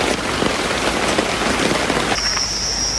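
Steady rain pouring down outdoors near a river in a state park, a dense even hiss of drops on surfaces throughout, with a faint high tone entering near the end.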